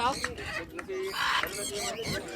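A hen clucks in short bursts close by, with a voice speaking intermittently alongside.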